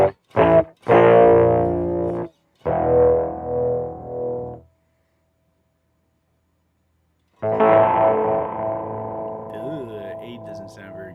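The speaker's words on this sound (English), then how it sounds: "Play some power chord type chords." Distorted electric guitar power chords ring out through a Peavey Vypyr VIP2 amplifier's effects section, loud and close, in a few short struck bursts, then a longer sustained chord that decays, a silent gap and another ringing chord.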